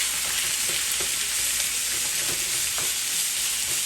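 Noodles for Peruvian tallarín saltado fry in a hot pan with meat, a loud dense sizzle and spitting oil, broken by a few soft stirring knocks.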